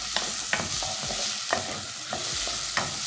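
Onion sautéing in a hot pan, a continuous sizzle punctuated by regular quick scraping stir strokes roughly every half second, close and clear with no voices.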